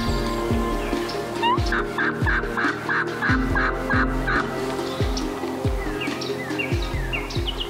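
Wild turkey gobblers gobbling outdoors in a series of loud, rapid rattling calls near the blind, repeating about ten times over steady background and faint birdsong.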